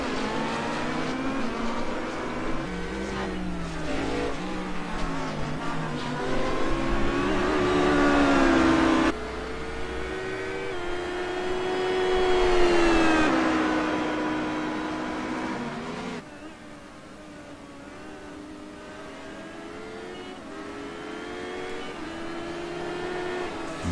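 Race cars roar around a track, engines whining and shifting pitch as they pass close by, loud and continuous with several distinct surges, no talk over them.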